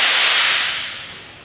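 A Shaolin whip is swung through the air, giving a loud, close broadband whoosh that hisses and slowly fades over about a second and a half, with no distinct crack standing out and no voices.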